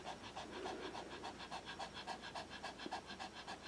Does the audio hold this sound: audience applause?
no